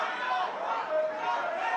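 Crowd chatter fills a White House reception room, a steady murmur of many voices close by with no single speaker standing out.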